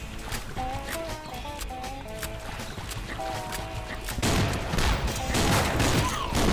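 Shotgun blasts in the Swamp Attack mobile game come as a dense, continuous volley of loud cracks that thicken into a heavy roar near the end, layered over game music with tonal notes in the background.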